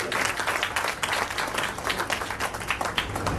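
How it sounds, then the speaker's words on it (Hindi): Loud, dense applause from an audience at a Hindi poetry recital, welcoming a poet with steady continuous clapping throughout. "एक बार जोरदार तालियां स्वाति पूजा के।"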